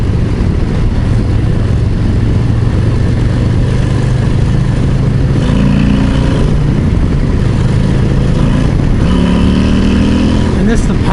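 A Harley-Davidson Low Rider ST motorcycle with a 131 Screamin' Eagle engine rumbles loud and close, its deep throb rising in a few revving pulls, with wind buffeting and someone talking over it.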